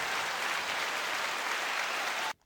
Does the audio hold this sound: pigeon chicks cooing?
no